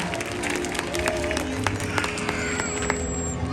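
Audience applause at a killer whale show at SeaWorld San Diego, a steady wash of clapping and crowd noise from a large open-air stand, moderately distant, with a voice speaking over it.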